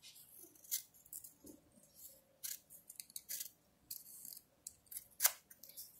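Scissors snipping through paper being cut into fan shapes, a series of sharp, quiet crisp cuts at an uneven pace, close up in a quiet room.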